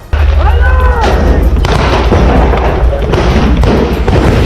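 Loud, continuous gunfire and heavy thuds close by in combat between Israeli forces and Hamas in Gaza, dense and overlapping, with a few muffled shouts mixed in.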